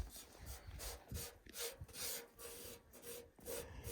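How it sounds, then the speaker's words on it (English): A hedge trimmer blade is sharpened with a Sharpens Best sharpener in short, rhythmic rasping strokes of metal scraping, faint and close, repeated about a dozen times without talk. "It's impossible to sharpen an object without taking metal off the blade."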